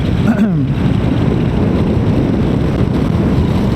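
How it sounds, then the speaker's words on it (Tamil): Strong wind roars over the microphone on a solo motorbike ride from Thiruthani to Tirupati, a loud, steady buffeting rumble throughout with a brief faint tonal chirp near the start. "காற்று பயங்கரமாக அடிக்குதுடா டேய்"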